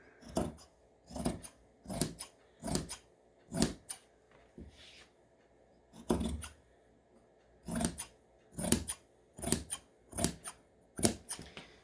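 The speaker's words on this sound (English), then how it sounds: "I'm going to go ahead and cut this rectangle out." Scissors snipping through t-shirt fabric to cut out a rectangle, a series of distinct crisp cuts in uneven clusters with short pauses between, close and quiet.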